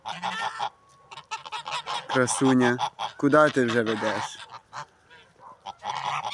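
Farmyard geese led by an old goose honk loudly and repeatedly at close range, the calls bunched in bursts, while someone speaks between and over them.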